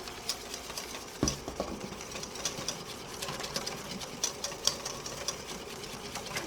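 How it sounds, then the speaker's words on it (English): Eggs are whisked by hand for Eggs Benedict sauce, giving a steady rapid metallic clicking and scraping of the whisk against the bowl, fairly quiet and continuous, with no voices. "Continue whipping because you don't want to overcook the eggs."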